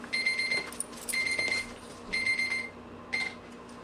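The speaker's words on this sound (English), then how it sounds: "My alarm went off." An alarm clock rings in repeated bursts of bright electronic beeping, each lasting about half a second with short gaps between, steady and moderately loud.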